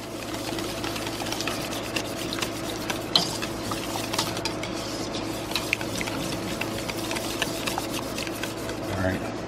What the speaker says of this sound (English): Now we're going to stir it in really good.